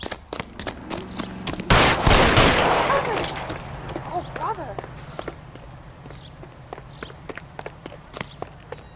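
Gunshots in the 1940s Los Angeles crime game L.A. Noire, one loud sharp blast followed by a rolling echo, with scattered footsteps and clicks afterward while voices talk.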